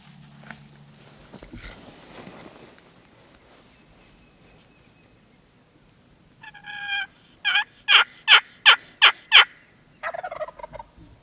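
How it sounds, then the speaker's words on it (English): A wild turkey gobbles in the Texas countryside, a rapid rattling burst of calls partway through, moderately close, after quiet rustling and low murmurs. "That bird's coming."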